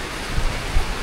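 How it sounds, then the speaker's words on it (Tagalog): Steady heavy rain from a typhoon pouring down, a dense continuous hiss with a few faint low thumps underneath. "Pansin niyo grabe yung ulan na."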